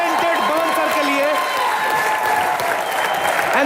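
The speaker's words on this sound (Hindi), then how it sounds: "बार जोरदार तालियां हमारे मल्टी टैलेंटेड पवन सर के लिए।" Loud, dense studio audience applause on an Indian comedy talk show, a continuous roar of many hands clapping close up, with a voice heard briefly over it at the start.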